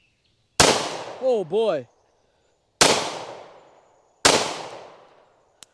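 A Staccato CS pistol fires Winchester Silver Tip 115-grain jacketed hollow points in three sharp, loud, close shots a second or more apart. Someone speaks briefly between the first two shots.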